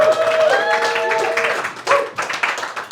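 An audience at a series launch screening claps for the director of photography, a burst of applause mixed with voices and a few tonal calls or whistles, rising again near the end.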